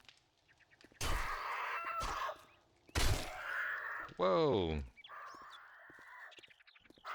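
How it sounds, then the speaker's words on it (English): A chicken clucking in the video game 7 Days To Die, heard as a short rising cluck in the middle. Sharp, loud game noises come before it, and someone speaks briefly. "Bird."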